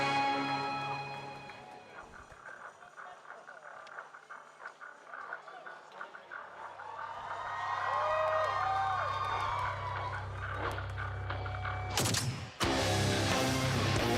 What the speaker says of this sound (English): Let's cheer for Waters Pro and Alpha 7